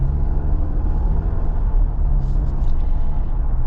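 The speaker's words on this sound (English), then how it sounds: "We're going 30 miles an hour and I'm already getting tire noise." Steady low road rumble and tire roar heard from inside a Jeep Wrangler Rubicon cruising at 30 mph, a constant droning hum with no talking.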